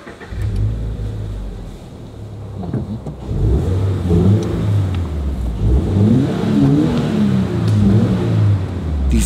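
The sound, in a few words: sports car exhaust revving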